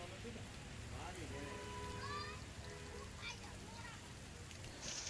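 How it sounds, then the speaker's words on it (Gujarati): Steady light monsoon rain patters in a soft, even hiss in Gir Gadhada, Gujarat, with faint voices murmuring in the background. "ગીર ગઢડામાં પણ હળવાથી મધ્યમ ઝાપટા જોવા મળી રહ્યા છે"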